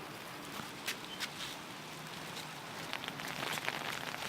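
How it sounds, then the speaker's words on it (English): Rain falls harder over a garden, a faint steady patter with scattered sharper drops and taps picking up toward the end, no talk. "it looks like it's starting to rain harder again"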